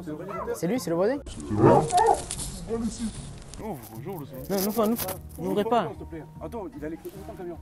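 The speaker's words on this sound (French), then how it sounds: "toute la nuit, il n'arrête pas d'aboyer le chien." A small dog barks from inside a parked truck, its barks muffled and partly buried under several people talking excitedly in French nearby.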